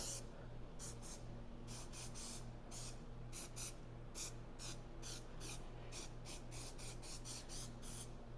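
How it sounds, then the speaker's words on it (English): Rapid short bursts of hissing spray from a can of adhesive repeat in quick succession, close and crisp over a low steady hum, while coating car headliner material. "I'm going to spray both sides with some of this adhesive."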